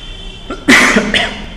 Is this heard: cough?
yes